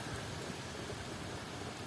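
Rain falls in a steady, even hiss, a faint wash of drops across a surface with no distinct pattern or voices.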